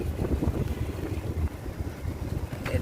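Gusty wind roars across the microphone under lowering storm clouds near a funnel cloud in Huntington, West Virginia, a steady low rumble with no voices.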